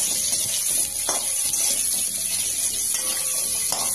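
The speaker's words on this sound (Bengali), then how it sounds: "প্রথমে অ্যাড করছি কুমড়ো। কুমড়োটা দিয়ে একটু ভালো করে ভেজে নেব।" Pumpkin pieces fry in a pan with spices, giving a steady bright sizzle with faint scraping and clinks underneath and no voices.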